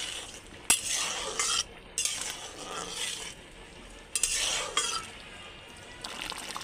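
Cornflour slurry being stirred into a cooking pan, with repeated scraping and clinking strokes of a spoon against the metal in short bursts over a soft sizzle, close by.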